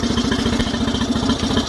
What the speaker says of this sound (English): Idle is high, but that will lower down to about 700 to 800, which is normal as the engine warms up